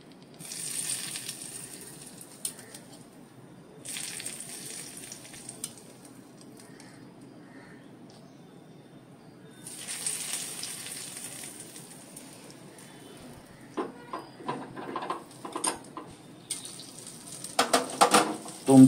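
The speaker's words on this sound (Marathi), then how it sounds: "ही तयार केलेली फोडणी ही आपण याच्यावरती घालायची आहे." Hot tempering (phodni) poured onto poha, giving quiet sizzling in several short bursts with pauses between, then clattering stirring and scraping toward the end; no talking.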